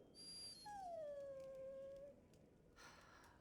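A dog in Dragon Age: Origins gives a single long, high whimpering howl that bends downward and fades, rising over a low background hum with no talk.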